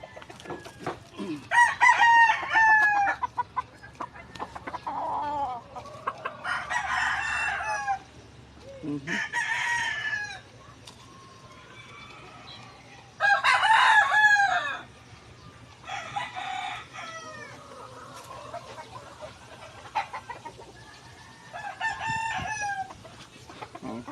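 A rooster crows several times in bursts, with hens clucking between calls; the birds sound fairly close, with steady low background hum throughout.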